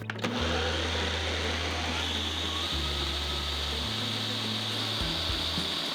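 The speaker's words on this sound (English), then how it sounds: "I'm going to blend that until it's very smooth because we want to have a smooth cheesy sauce" Kitchen blender whirring through a cheese sauce until smooth, a loud continuous motor drone close by whose pitch steps down and back up several times as the contents churn.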